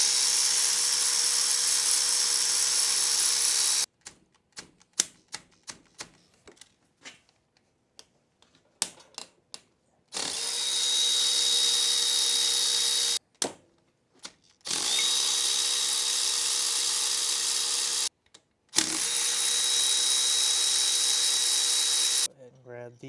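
A power tool whines in long loud bursts, removing the four cylinder head bolts from a Yamaha Grizzly 660 engine under rebuild for burning oil, separated by stretches of clicks and metallic handling of parts.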